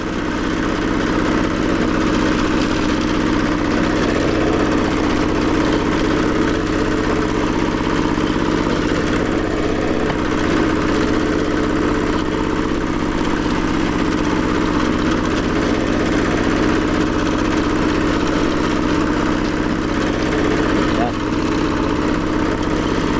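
A tractor engine runs steadily and loudly throughout, a constant droning rumble with no breaks.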